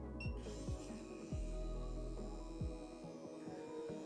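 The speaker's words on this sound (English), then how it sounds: "So the machine is running extremely slow." A tattoo machine runs slowly at 5 volts with a low, steady buzzing hum. Soft periodic thumps recur through it, and no one talks.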